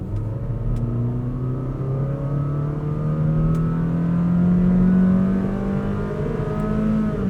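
A 2024 Honda City facelift RS with a 1.5L petrol engine revs steadily upward under acceleration, its engine note rising gradually and evenly over several seconds with no talk.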